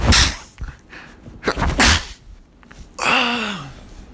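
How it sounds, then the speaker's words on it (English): A person sneezes loudly and close by in a few sharp explosive bursts, followed by a breathy drawn-out exhale, with no talking over it. "I'm gonna sneeze."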